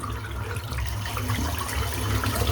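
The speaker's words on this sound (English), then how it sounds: "Just rinse the brush out." Tap water runs steadily into a bathroom sink while a shaving brush is rinsed out after a shave, a continuous close splashing wash with no talk.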